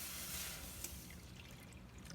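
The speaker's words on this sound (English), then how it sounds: "now I'm gonna add in the milk" Two cups of milk poured into a pan for scalloped gouda sweet potatoes, a soft, continuous liquid trickle heard up close but faint.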